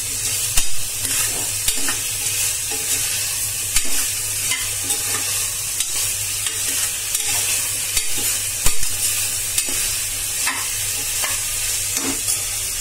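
Vegetables for veg pulao frying and being stirred in a pressure cooker, a steady loud sizzle with frequent scraping and clinking stirring strokes close by, with no voices.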